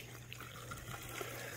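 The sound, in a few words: water running down a French drain pipe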